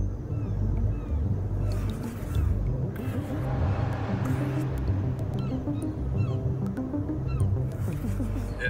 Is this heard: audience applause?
no